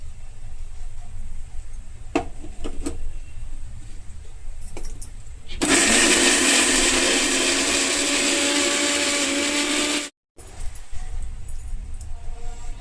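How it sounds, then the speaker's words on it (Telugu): After quiet kitchen noises, a mixer grinder roars loudly for about four seconds grinding a tamarind-leaf and mint chutney, cuts off abruptly, then faint handling sounds follow. "ఒకసారి మళ్ళీ మిక్సీ పెట్టుకుందాం"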